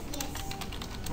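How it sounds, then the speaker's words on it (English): Quick, soft keystrokes tap out on a computer keyboard in a short burst, close to the microphone over a steady background hiss. "You can type Fern."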